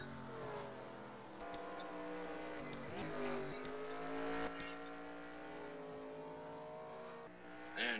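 Race cars in a Samsung Cup Series event at Canadian Motorsports Park, a racing video game, whine with layered engine tones that rise and fall as they shift and pass, steady and moderately loud throughout.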